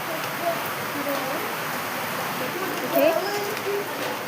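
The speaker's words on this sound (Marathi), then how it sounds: "पाऊस पुरवलं चिकचिक झालंय सगळीकडे पाऊस चालू आहे" Afternoon rain falling steadily, a dense even hiss of drops at moderate level throughout with no breaks.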